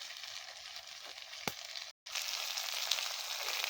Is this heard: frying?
yes